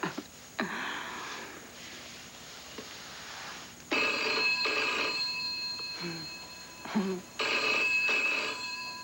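An old-fashioned telephone bell rings in repeated bursts inside a room during a soap opera scene, the trills loud and close with brief pauses between them, and faint voices and movement in between.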